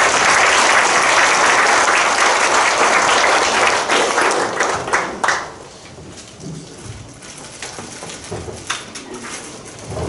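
A lecture audience at POSTECH bursts into loud, dense applause that holds steady for about five seconds, then quickly thins and fades into scattered claps and quiet room noise.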